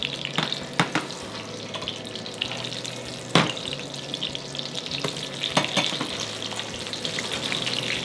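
Thin chicken breast cutlets fry in a shallow layer of oil in a frying pan, giving a steady close sizzle broken by sharp crackles and a few clanks as the pan is shaken.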